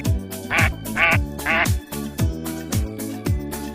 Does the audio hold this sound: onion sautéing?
no